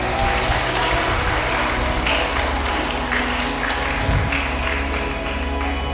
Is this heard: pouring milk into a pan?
no